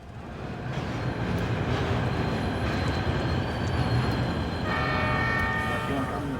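A train in a story-based Warhammer role-playing video game rolls past with a steady mechanical rumble, and a horn-like tonal blast sounds near the end.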